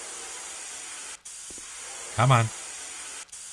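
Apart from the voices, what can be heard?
bug spray hissing in video game Cafe Owner Simulator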